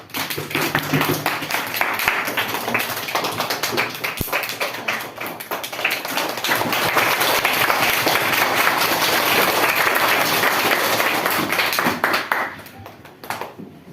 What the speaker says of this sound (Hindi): कृपया तालियों से उनका हौसला बढ़ाइए।